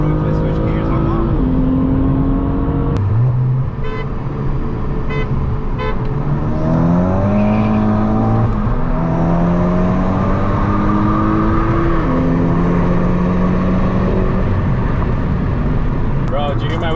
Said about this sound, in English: did you hear my wheel spin?